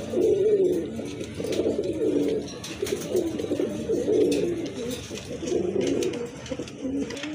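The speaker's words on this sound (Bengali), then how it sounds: "খুবই ভালো মানের এক জোড়া কবুতর" A pair of pigeons cooing close by in repeated low, throaty phrases, fairly loud and continuous, with faint background chirps and no talk.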